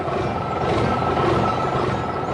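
A big red cartoon truck's engine rumbles and grinds steadily at close range while lifting dark soil, a continuous mechanical drone with no pauses.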